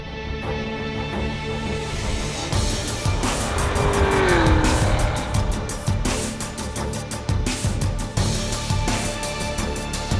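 Cadillac CT5-V Blackwing development car, Precision Package, lapping Virginia International Raceway: a sustained loud engine roar rising and falling through gear changes, with tire squeal in the middle of the run, no voices.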